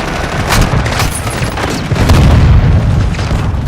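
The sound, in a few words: mortar strike explosion in a video game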